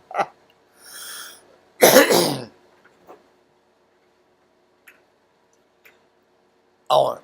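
A person coughing while moving around indoors, several separate coughs in short bursts, close and fairly loud, with quiet ticking and small sounds in between.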